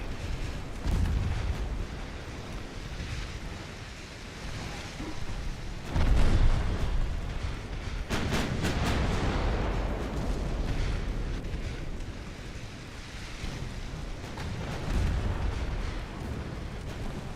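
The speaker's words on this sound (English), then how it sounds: "I would really like the secondaries to continue firing on the light cruiser." Warship guns firing in the naval video game Ultimate Admiral Dreadnoughts, secondary batteries on a light cruiser and main guns on a battleship, give a steady run of rumbling booms and crackling blasts with heavier bursts around the middle.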